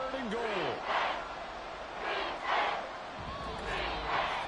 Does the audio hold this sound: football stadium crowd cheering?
yes